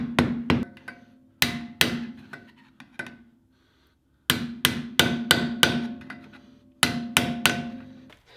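A series of sharp, solid rubber mallet blows on a brake part during a drum-to-disc brake conversion on a 1965–1966 Ford Mustang, struck in quick clusters of two to four, with short pauses and a ringing thud on each hit.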